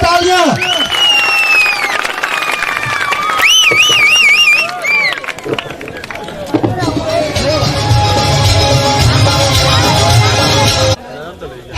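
Audience at a Pakistani gathering applauds the Honey Fateh and Shakir groups. A voice comes first, then dense, sustained clapping and crowd noise fill the second half before cutting off abruptly.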